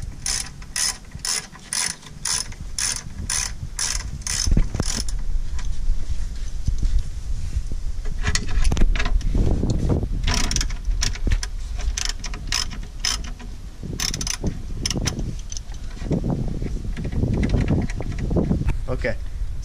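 Mechanical ratcheting and clicking from a tool loosening the throttle body cover on a truck engine, with rapid repeated clicks at the start and then irregular clatter, with talking throughout.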